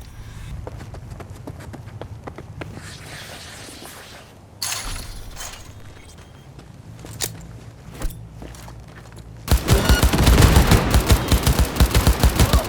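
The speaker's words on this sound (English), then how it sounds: "Heard shots." Gunfire in the video game Cyberpunk 2077: scattered sharp shots and bursts early on, then a loud, rapid volley of close machine-gun fire packed tightly together toward the end.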